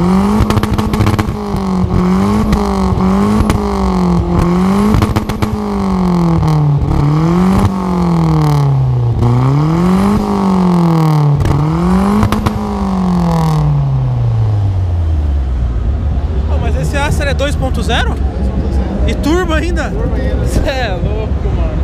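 A square-body Volkswagen Gol engine revs up and down in a steady repeated rhythm, then winds down and settles into a lower drone. People talk nearby toward the end.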